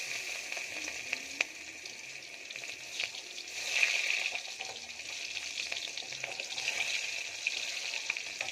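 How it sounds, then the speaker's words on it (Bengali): Onions fry in oil with cumin and five-spice, making a soft, steady sizzle with scattered pops and light stirring scrapes, fairly quiet and close, with no voices. "পেঁয়াজ ভাজা হয়ে গেল"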